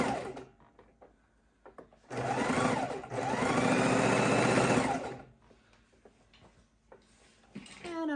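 A sewing machine stitches raw edge appliqué in two loud, close bursts of about a second and two seconds, with a brief pause between and quieter handling sounds and a voice before and after.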